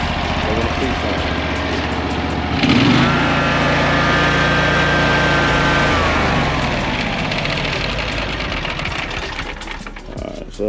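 Riding lawn mower engine idling steadily and close, a constant mechanical drone that briefly rises in pitch and loudness with an added whine before settling back to idle.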